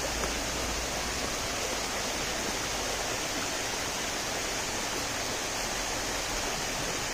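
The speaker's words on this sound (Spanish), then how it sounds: "Nelson, para que te duerma, Nelson, con el ruidito del río." A river near La Encantada in Añasco, Puerto Rico, flows with a constant broad rushing hiss, steady and unbroken for several seconds with no voices.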